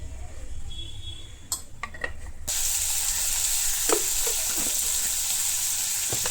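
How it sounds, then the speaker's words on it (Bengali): Bitter gourd being fried in a home kitchen, a few clinks of utensils giving way to a sudden steady sizzle in oil with light stirring taps, fairly close and without speech. "তো করলা ভাজা দিয়ে দিই"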